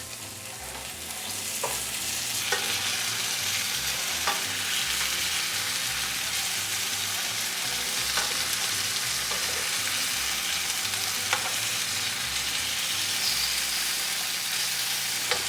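Flipped shrimp fry in a pan with a steady, close sizzle that holds evenly throughout, broken by a few faint clicks and stirring touches, and no talk.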